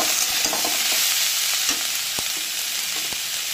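Ivy gourd (kundru) with salt and turmeric sizzles steadily in a pan, a loud even hiss broken by a few faint clicks of the spoon as it is mixed.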